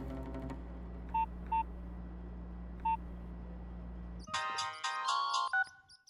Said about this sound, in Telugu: ఒక కాల్ చేసుకోవచ్చు సార్?